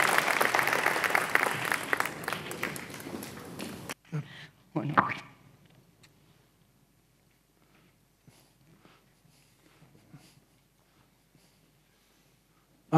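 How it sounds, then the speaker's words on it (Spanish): Applause from an audience at an award ceremony, a dense burst of clapping for about four seconds that cuts off abruptly, followed by a few scattered claps and faint room noise. "Un fuerte aplauso para ella."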